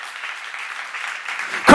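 A church congregation at a seminar breaking into applause, a sustained patter of many hands clapping at moderate distance that swells louder at the end.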